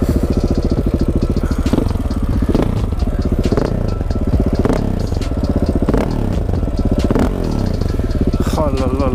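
A KTM 690 SMCR single-cylinder motorcycle engine revs repeatedly, loud and close, with rhythmic throttle blips rising and falling over a steady rumbling idle.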